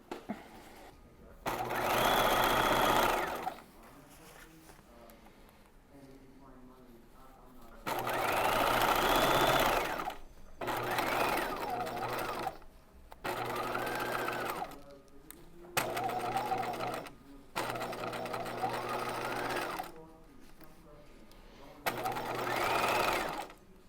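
A sewing machine stitches a bodice princess seam in bursts of steady whirring, about seven runs of a few seconds each separated by quiet pauses, close and clear.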